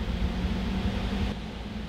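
A car's air conditioning fan on its low setting gives a steady, even whoosh with a low hum, dropping slightly in level near the end.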